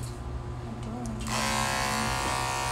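Electric clippers switch on partway through and buzz steadily at close range, shaving a matted Shih Tzu, with faint background noise before the motor starts.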